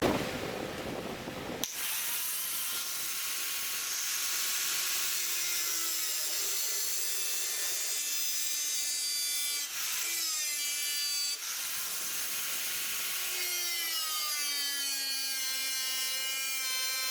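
A power saw cuts through a steel body panel of a 1966 Ford Mustang Fastback, giving a close, loud, continuous high-pitched whine and rasp that dips briefly a few times before resuming.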